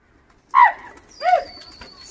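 Pet pigeons kept by a Delhi pigeon keeper give two distinct throaty coos close at hand, each swelling and fading, followed by a faint thin high tone in an otherwise quiet space.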